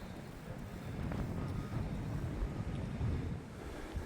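Strong wind roars and buffets continuously in a low, rumbling rush, with no one speaking.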